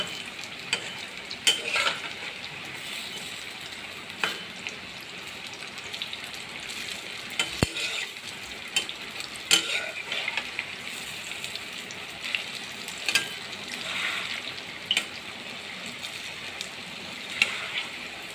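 Shrimp shells frying in a pan with a steady, close sizzle, with occasional stirring scrapes and brief pops running throughout.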